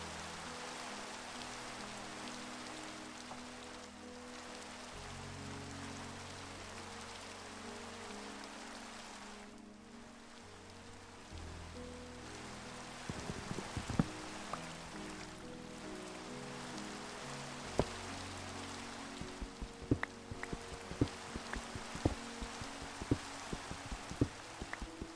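Steady rain falls on surfaces as a continuous hiss throughout, with scattered sharper drops and taps growing more frequent in the latter half, with no voices.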